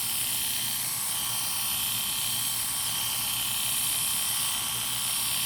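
Hair clippers buzz steadily throughout a clipper-over-comb haircut, a continuous high whine with a low hum beneath, close and fairly loud, no talking.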